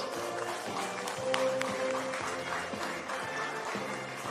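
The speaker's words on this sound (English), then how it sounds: "Please give a big round of applause." Crowd at a men's NPL soccer match in New South Wales applauds players receiving cap presentations, a steady, moderately distant wash of clapping that holds evenly throughout with faint voices underneath.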